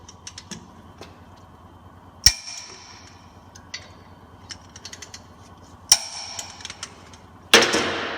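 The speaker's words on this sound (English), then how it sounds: "Now we torque the caliper bracket bolt to 100 foot-pounds in this case." A torque wrench tightens a Jeep's brake caliper bracket bolt to 100 foot-pounds, giving a few sharp metallic clicks and clanks spaced apart over quiet mechanical ticking.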